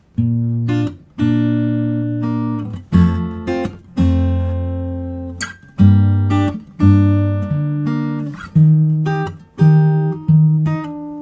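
Strummed barre chords on guitar ring out one after another, each held and decaying before the next, in a slow, steady progression.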